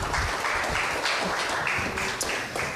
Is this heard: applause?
yes